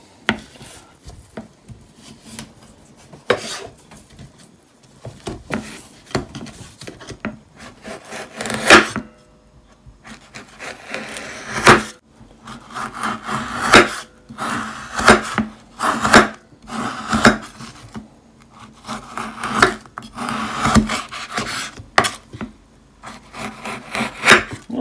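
Knife slicing through salted sima salmon with rosemary on a cutting board, a long run of irregular scraping and chopping strokes with dull knocks, close and fairly loud, no talk.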